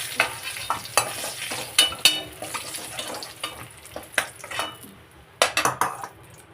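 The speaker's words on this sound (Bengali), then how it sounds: "বেগুনটা একটু ভেজে নিলাম বেগুনটা ভাজা হয়ে গেছে" Eggplant pieces frying in oil with turmeric and salt while being stirred in a pan, a steady sizzle under repeated sharp clinks and scrapes of a utensil against the pan, close and fairly loud, no talk.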